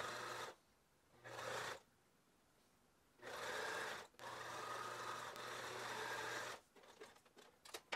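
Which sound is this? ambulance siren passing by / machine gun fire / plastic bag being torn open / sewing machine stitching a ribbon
sewing machine stitching a ribbon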